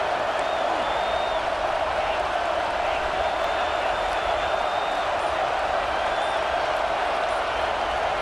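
Stadium crowd roaring steadily in EA Sports College Football 26 on a fourth-down play, a dense, constant wall of cheering noise with faint whistle-like tones above it, loud and unbroken throughout.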